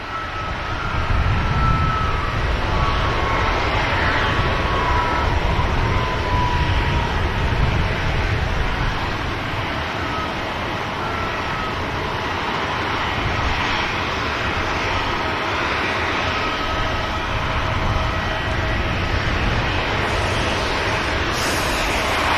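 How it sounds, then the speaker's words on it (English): A Ryanair jet bound for Milan takes off from Manchester Airport, its engines a loud, sustained roar that builds and then slowly fades as the aircraft climbs away, with no voices over it. "the first one to go. This is the Milan bound Ryanair."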